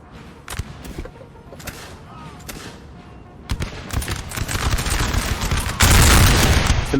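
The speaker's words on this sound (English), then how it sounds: "Some nice volleys from the light infantry." Light infantry fire musket volleys in a Napoleon: Total War battle at Austerlitz, with repeated crackling bursts that grow denser and louder toward the end.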